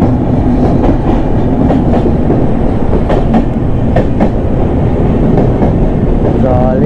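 The Delhi–Kamakhya express train rolls past on the tracks near a bridge, a loud continuous rumble with rhythmic clickety-clack wheel beats close by and a brief squeal near the end.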